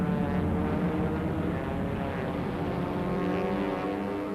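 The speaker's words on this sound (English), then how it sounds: "German planes attack ships in the English Channel, smash the ports, and batter the RAF in dogfights" Propeller-driven WWII German warplanes drone steadily through an air battle over the English Channel, a dense, continuous low engine roar that holds loud and unbroken throughout.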